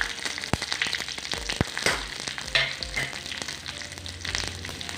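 Dried chilies frying in hot coconut oil, crackling and popping with sharp irregular bursts over a steady sizzle, close and fairly quiet.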